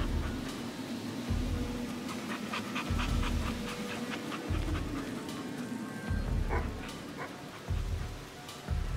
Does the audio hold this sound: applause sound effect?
no